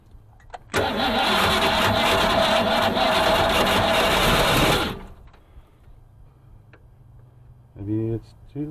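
A 1966 Ford Mustang engine that sat off the road for over thirty years, with ignition timing set slightly retarded, cranks and catches, revving loudly for about four seconds before cutting out. A person then speaks briefly.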